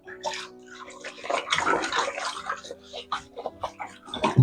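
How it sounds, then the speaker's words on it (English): A lunchbox being scrubbed in dirty dishwater in a kitchen sink: irregular splashing, sloshing and rubbing bursts close by, over a faint steady tonal background. "And then I wash the lunchbox. Bit of a scrub."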